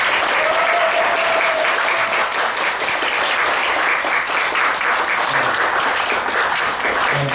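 A church congregation at an afternoon worship service applauds in a loud, sustained, even round of clapping, with a faint voice briefly audible over it.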